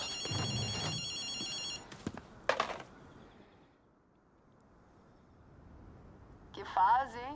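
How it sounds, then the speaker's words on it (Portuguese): A public payphone rings in the video game Ghostwire: Tokyo, a bright electronic trill in short bursts at the start and again near the end, separated by other game sounds and a quiet stretch. "Vindo daquele telefone público. Cara, o barulho do telefone"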